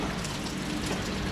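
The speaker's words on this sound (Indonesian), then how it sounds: "Hujan pun turun lebat eh." Heavy rain pours down at night in a steady dense hiss around an abandoned housing area, continuous and even.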